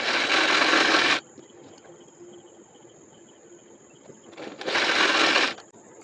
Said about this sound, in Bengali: এবার ব্লাউজটাকে উল্টো করে কোমরপট্টিটাকে এইভাবে ডবল ভাঁজ করে সেলাই করে নেব।